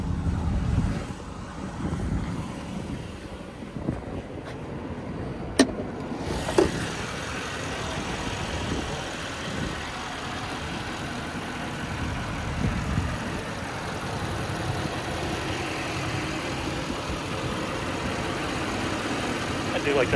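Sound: car engine idling with hood open

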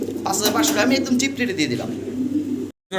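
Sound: Lahori pigeons cooing

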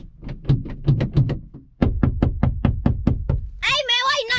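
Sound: hard knocking

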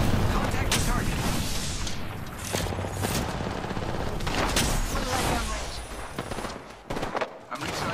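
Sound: gunfire from people shooting in a video game

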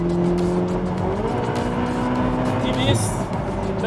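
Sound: Ferrari 488 Pista Spider engine accelerating

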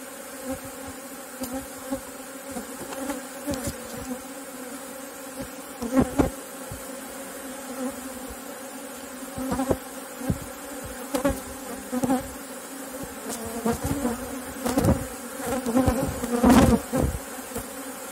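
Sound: honey bees buzzing around hive frames

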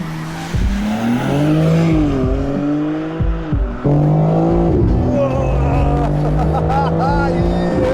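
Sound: drag taxi sports car accelerating hard

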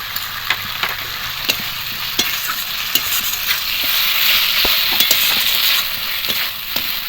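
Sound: potatoes being stirred and fried in pan

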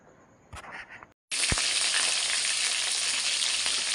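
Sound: frying potatoes and meat

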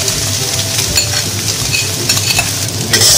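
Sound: stir-frying char siu fried rice in wok

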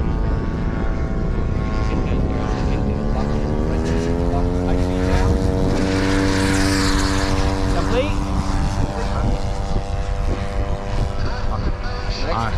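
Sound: RC model P-47 Razorback airplane taking off

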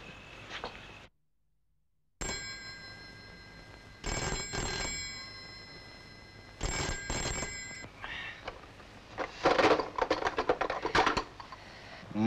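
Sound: telephone ringing

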